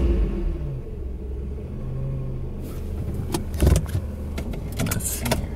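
An older car's engine idles with a low steady rumble, near and continuous, with a few brief clicks and knocks over the drone.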